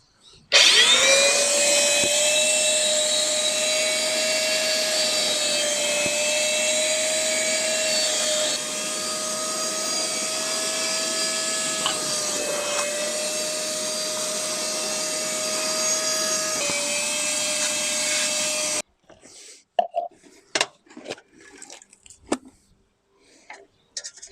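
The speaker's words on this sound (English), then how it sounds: "we'll see what we can get out with the vac" A wet vac sucks water and grime from the interior of an FG Falcon XR6, a loud steady whine with pitch dips as the nozzle drags and gurgles, then cuts off into scattered handling clatter.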